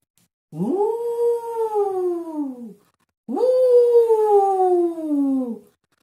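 A human voice imitates a wolf howling in a puppet-theatre fairy tale: two long, loud, gliding howls, each about two seconds, with a short silent gap between them.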